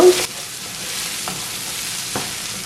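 Ash plantain stir-fry sautéing in a pan, a steady close sizzle with a loud scrape at the start and a couple of soft utensil taps as the pieces are mixed.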